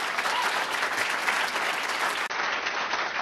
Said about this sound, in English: just give a big round of applause for Representative Harris